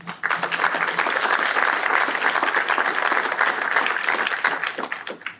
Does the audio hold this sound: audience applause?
yes